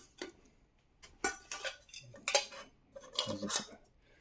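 An MSR Pocket Rocket stove cook system is handled, producing a few faint, close metallic clinks and rattles spaced out over a few seconds, with no talking.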